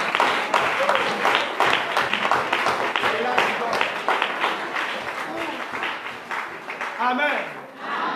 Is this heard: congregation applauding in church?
yes